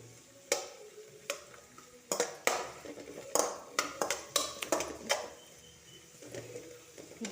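Two large onions and a piece of cinnamon fry in a pan, soft sizzling broken by irregular clicks and scrapes as a spoon stirs them, close and fairly quiet.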